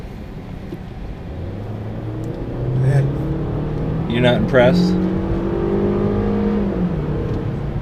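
A Buick Encore or Chevrolet Trax engine with a performance tune hums and rises in pitch as it accelerates, steady and close, while people talk briefly over it.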